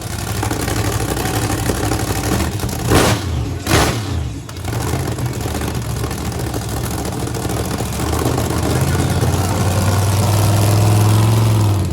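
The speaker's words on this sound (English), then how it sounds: "I'm gonna hold him into place and burp the throttle a little bit" A pickup truck at a truck tug event in Sanford, Florida idles loudly up close, its engine rumbling with short throttle blips and a rising rev near the end. The truck has a burned trans-cooler relay and melted coolant.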